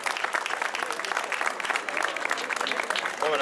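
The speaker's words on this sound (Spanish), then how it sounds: "Un fuerte aplauso para él." Audience applause for a pianist at a live jota cordobesa performance, a lively burst of dense clapping with some crowd voices mixed in, steady and fairly close.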